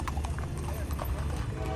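Hooves of a horse pulling a carriage through Luxor, Egypt clip-clop in a steady, close rhythm over a busy street rumble, with a murmur of voices in the background.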